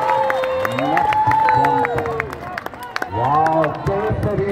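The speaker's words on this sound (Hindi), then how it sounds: "जोरदार तालियां आपको" A crowd at an Independence Day parade ground claps and cheers as a saffron parachute lands, scattered applause mixed with excited voices and shouted calls over a busy outdoor babble.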